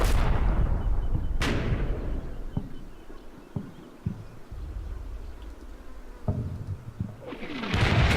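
Artillery fire in the World War II strategy game Combat Mission Final Blitzkrieg: a few heavy booms and sharp distant cracks spaced across a rumbling background, with a large blast at the start and end.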